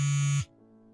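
A mobile phone sounds a steady electronic buzz for an incoming call, loud and constant for under half a second before cutting off abruptly into quiet.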